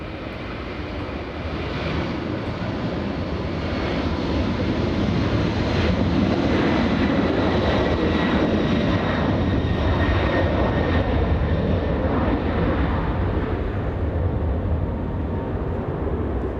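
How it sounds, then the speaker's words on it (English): A Boeing 767 airliner bound for New York takes off at LAX, its jet engines a loud, steady broadband roar that swells over the first seconds and holds throughout, with no voices. "Let's get the takeoff. A 767 flying to New York."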